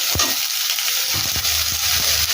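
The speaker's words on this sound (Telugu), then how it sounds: "చాలా పోపులు తీసుకున్నాం కదా అదే నూనెలో ఈ ఉల్లిపాయలు వేపించుకోవాలి" Sliced onions fry in hot oil with turmeric for a brinjal curry, giving a loud, continuous close-up sizzle with a few soft scraping stirs.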